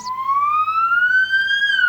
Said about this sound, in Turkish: Ambulans sesi